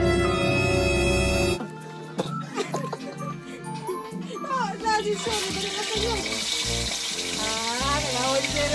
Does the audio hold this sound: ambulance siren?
no